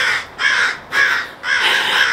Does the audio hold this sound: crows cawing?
yes